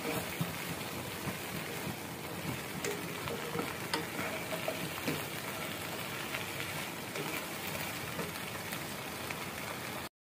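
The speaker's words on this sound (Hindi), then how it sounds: "साथ ही मैं इसमें भिंडियाँ शामिल कर दूंगी और इसी के साथ जो है भिंडियों को भी फ्राई कर लेंगे हम।" Okra (bhindi) shallow-frying with browning onions in a pan for dhaba-style masala bhindi, a dense, even crackling sizzle that holds steady at moderate loudness for the whole stretch.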